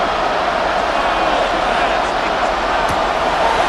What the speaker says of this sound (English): The crowd at MetLife on their feet for 3rd down.